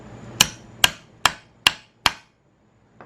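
Five sharp hammer strikes on wood at a steady pace, loud and close, followed by a faint light tap after a pause.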